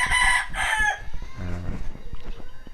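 An 11-month-old talisayin gamefowl rooster in a backyard crows loud and close, two strong bursts at the start followed by a softer, trailing call.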